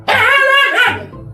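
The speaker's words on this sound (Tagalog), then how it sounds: "ginagaya nila ang tunog na nililikha ng mga hayop gaya ng tahol ng aso" A dog gives a single drawn-out bark that trails into a yelp, loud and close, with no voices around it.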